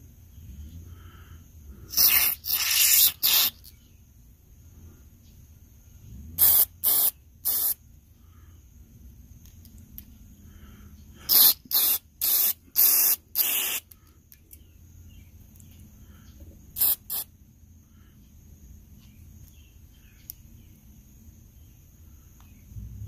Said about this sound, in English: I wasn't able to shoot the carburetor cleaner through